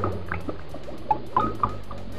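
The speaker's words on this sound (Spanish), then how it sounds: "Alguien ha dejado la manguera abierta y se está desperdiciando agua." Water drips and trickles from a leaking garden hose left open, in small, irregular drops close by, a few distinct plinks standing out over a soft liquid background.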